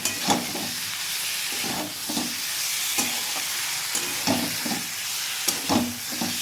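Spice masala for ghugni is sautéed in oil, a continuous close sizzle broken by repeated scraping stirs at an irregular pace.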